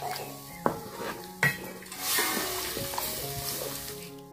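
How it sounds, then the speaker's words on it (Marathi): Water poured into a hot pan for pithla, a gram-flour dish cooked over a wood-fired stove, brings a bright hiss and sizzle that settles into a steady simmer, with metal scraping and clinks from stirring in between. "आता गरजेप्रमाणे यात पाणी टाकायचं आपल्याला."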